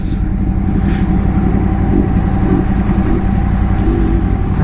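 Kawasaki Ninja H2 supercharged motorcycle fitted with a loud aftermarket SC-Project CRT race-fit exhaust can, giving a constant heavy engine roar that stays loud throughout with no clear speech.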